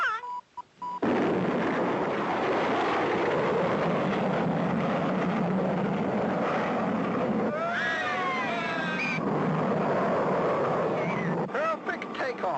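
Cartoon rocket takeoff effect from a 1959 animated space-station story: a loud, sustained roaring rush filling about eleven seconds, with warbling whistle-like sweeps in the middle and a brief sputter before it cuts off.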